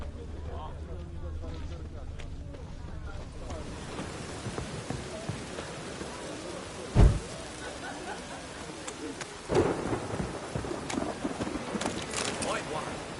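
Steady rain and thunder in The Witcher 3 near Novigrad, a constant hiss of rainfall with two sharp thunder claps partway through, heard under game voices and ambient sounds.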